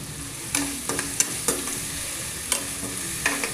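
Chopped tomatoes and salt frying with onions for yellow rice, a close hiss in the pan punctuated by repeated sharp spoon scrapes and taps as the mixture is stirred, no one speaking.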